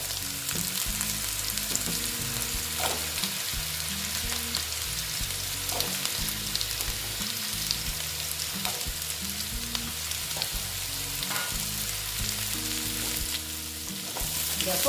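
Radish pieces fry in oil in a pan for a pure-veg mixed vegetable dish, giving a steady close sizzle with repeated scraping stirs of a spatula throughout.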